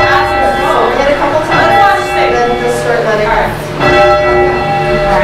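A heavy 500-pound church tower bell is rung down in a memorial bell tower, loud ringing strokes with long overlapping metallic hum and shimmering overtones, struck repeatedly at an even pace.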